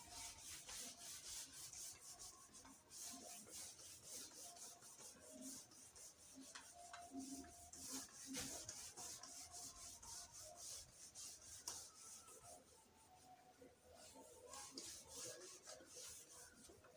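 Writing being rubbed off a board makes a faint, continuous scrubbing of back-and-forth strokes with occasional light squeaks, quiet and without talk.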